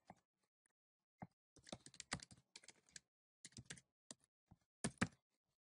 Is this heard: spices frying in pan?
no